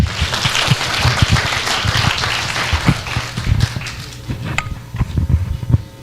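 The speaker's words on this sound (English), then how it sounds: "Give him a clap, tafadhali." Clapping from an audience at a Kenyan diaspora town hall in Maryland, a burst of applause that swells then thins into scattered claps and room noise, with a few louder individual claps near the end.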